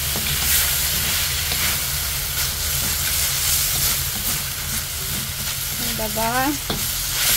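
Garlic sizzles steadily in a little hot oil for chicken tinola, a constant close crackle and hiss with faint stirring, and a voice speaks briefly near the end.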